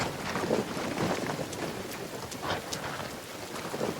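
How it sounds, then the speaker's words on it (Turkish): Steady rain falls in The Forest video game, a continuous hiss of drops on surfaces with a low wind-like rumble underneath, even and unbroken throughout. "galiba yağmur başladı"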